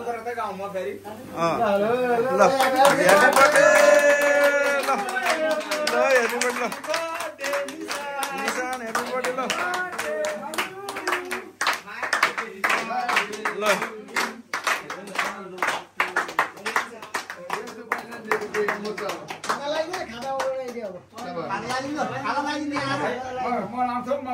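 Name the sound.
people clapping for a birthday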